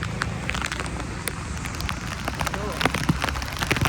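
Steady heavy rain patters down continuously in Surat, near a petrol pump, with people talking and background chatter layered over it.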